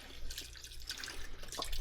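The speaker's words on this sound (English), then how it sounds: "we're going to take our beef broth, and this is going to get all the rest of the stuff off the bottom of the pan" Beef broth from a carton poured into a pan to deglaze a pot roast, a steady splashing liquid stream running the whole time, close and moderately loud.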